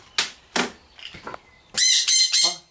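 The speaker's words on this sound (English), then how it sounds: "Hop off, little bird." A bird squawks loudly nearby, two harsh calls, then softer chatter and a burst of three shrill, raspy squawks.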